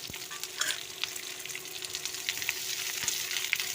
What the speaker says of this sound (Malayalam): നന്നായിട്ടൊന്ന് ഫ്രൈ ആക്കി എടുക്കാം.